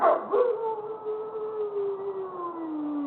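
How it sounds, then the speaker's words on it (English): A howling, siren-like dog alert tone starts with a sharp burst, then holds a long wavering note that slowly falls in pitch for about three seconds. It is loud and close, with no talking. "He gets a bark alert."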